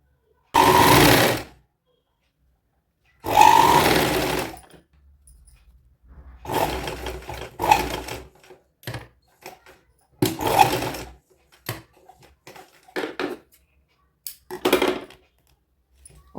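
Sewing machine stitching seams on a midi dress for a baby girl of one or two, running in several bursts of a second or so each, the later ones shorter and choppier with pauses between them.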